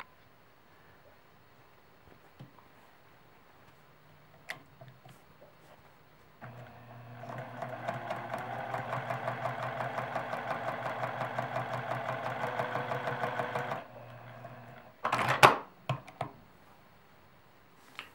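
After quiet handling clicks, a sewing machine runs steadily for about seven seconds of free-motion quilting, a close mechanical whir with rapid needle ticking, then stops, followed by a few sharp clicks and thumps.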